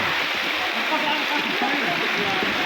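Heavy rain pours steadily during a flood in Quezon City, a dense constant hiss of water with gurgling runoff, close and loud throughout, while a voice speaks briefly over it.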